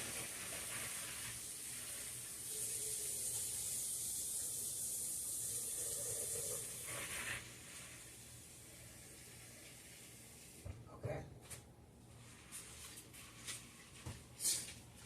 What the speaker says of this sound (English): I'm actually going to fill them with water.